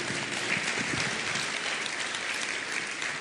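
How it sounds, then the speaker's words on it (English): Audience applause at a 2009 media festival CEO debate, a dense, steady wash of clapping from a large crowd, loud and continuous for the whole stretch with no talking. "He gets a solo round of applause"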